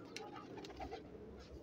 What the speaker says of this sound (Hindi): कबूतर माशाल्लाह बहुत प्यारे खूबसूरत कबूतर हैं।